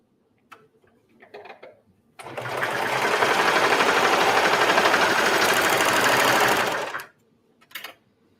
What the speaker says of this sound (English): Match up the side seams and sew it down.